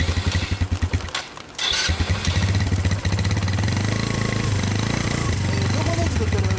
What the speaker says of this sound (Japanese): ごめん、エンジン音聞かせて。